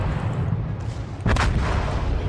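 Naval ship guns fire in a warship video game: low engine and sea rumble, then one sharp, loud gun blast with a booming tail that carries to the end.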